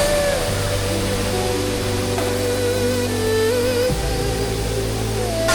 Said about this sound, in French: Sous la cascade actuellement.